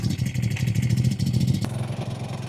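A $260 budget Amazon motorcycle runs steadily on its first ride, a rough mid-pitched engine drone with a faint rattle, loud and close, its tone shifting slightly partway through.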